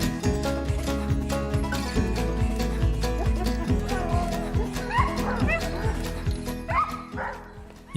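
Sled dogs bark, yip and whimper excitedly together, a dense, loud chorus of overlapping barks close by with higher whines rising over it.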